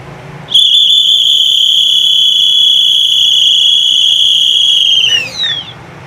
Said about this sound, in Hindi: पहले विसल के बाद आप एक लंबी सी सीटी बजाते हैं, थोड़ा सा गैप लेते हैं कि बस पैसेंजर्स को अलर्ट करते हैं सीटी के साथ